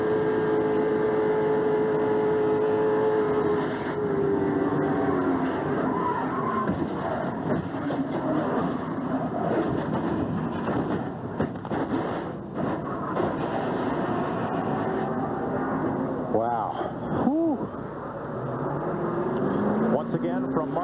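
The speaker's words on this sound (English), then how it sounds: "From Dale Jarrett's car, let's ride along as a 2-time Daytona 500 winner headed for turn 3." Onboard roar of Dale Jarrett's NASCAR stock car at the 1999 Daytona 500 heading into turn 3, a loud sustained engine drone with shifting pitch and other cars sweeping past, under a broadcaster's commentary.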